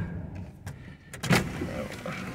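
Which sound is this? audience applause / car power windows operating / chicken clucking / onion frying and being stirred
car power windows operating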